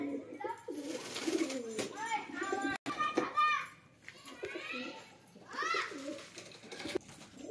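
Domestic pigeons coo in repeated soft, throaty phrases nearby, mixed with someone speaking and children's voices in the background, with a brief sharp knock partway through.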